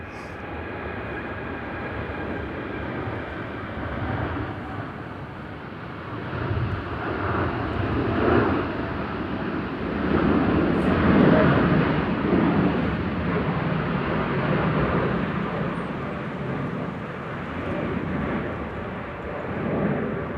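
A Norse airliner bound for London Gatwick takes off from Manchester Airport on a gusty day, its jet roar swelling and surging for about twenty seconds, loud and sustained, with no talking over it.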